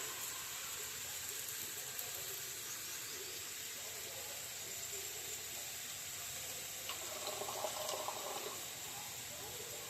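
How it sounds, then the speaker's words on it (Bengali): Red masoor lentils are rinsed in water in a home kitchen, a steady close hiss of running and swishing water throughout. "ডালটা একটু ধুয়ে নিলাম।"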